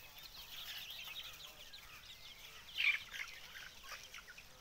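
Free-range desi Sonali chickens, 45 days old, clucking softly in the background on a poultry farm, with a brief louder squawk midway, set against a steady outdoor hiss.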